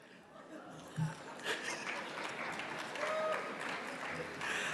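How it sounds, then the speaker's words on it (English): Scattered, half-hearted clapping from an audience at a mayor's State of the City address, faint and thin, mixed with a few chuckles and murmured voices in a large hall. "I can see some of you clapping very tepidly at that"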